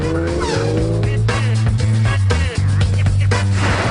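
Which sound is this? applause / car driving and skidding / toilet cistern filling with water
car driving and skidding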